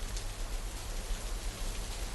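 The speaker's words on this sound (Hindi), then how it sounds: "इतनी तेज़ बारिश में, इस हालत में यहाँ पे आना" Heavy rain pours steadily at night, a dense, even hiss of drops on surfaces with a low rumble beneath, continuous and fairly close, with no voices.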